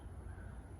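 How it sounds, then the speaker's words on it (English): A crow cawing in the open, one short harsh call, faint and distant over a steady low background rumble, no talk. "You can kind of feel, oh, something happened here on the landscape where the birds are sounding kind of upset."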